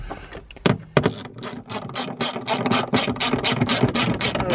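A ratchet wrench turns a bolt with a fast, steady run of sharp clicking strokes after a few louder opening clunks, close and loud throughout.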